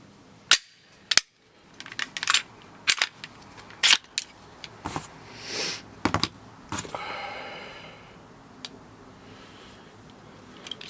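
A Glock pistol being field stripped, with its recoil spring and barrel removed, gives a series of sharp metallic clicks and snaps, scattered and close, with a few brief sliding scrapes between them.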